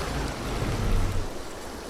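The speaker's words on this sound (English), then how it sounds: "we can hear all the water sloshing and splashing around" Continuous rushing water in Farming Simulator 22, a dense sloshing wash with low churning near a bridge, steady and fairly loud, no voices.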